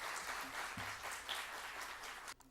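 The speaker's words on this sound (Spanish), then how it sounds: "vamos a recibirlo con el aplauso merecido." Audience applause welcoming an education district director at a university book launch, a steady wash of clapping from a seated crowd that holds evenly for a couple of seconds before dropping off abruptly.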